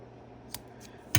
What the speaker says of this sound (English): We're going to just snip off the corners